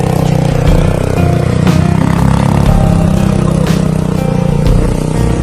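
A motorcycle engine rumbles close and loud, a continuous mid-pitched roar with rattling clatter that stays strong across the whole clip.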